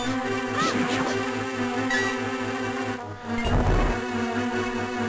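Dungeon music from the video game A Link to the Past plays as a steady, dark, sustained synthesized tone bed with droning low notes and a brief swell, continuous and alone.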